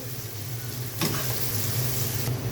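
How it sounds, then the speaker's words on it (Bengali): Onions fry in oil until light brown, a continuous low sizzle with one sharper stirring scrape partway through, heard close and without talk. "হালকা বাদামি করে ভেজে নেব পেঁয়াজটাকে।"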